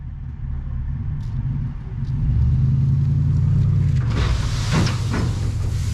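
A truck backing up a leaf-vacuum trailer: a steady, close low engine rumble that deepens and grows louder after two seconds, followed by a brief burst of brighter mechanical noise near the end.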